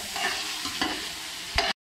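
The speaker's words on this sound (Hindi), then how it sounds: "और अब हम इसको 2 मिनट के लिए हिलाएंगे" Chicken biryani is stirred in a pan, frying with a steady sizzle and a few scraping stir strokes, close and moderately loud, ending abruptly.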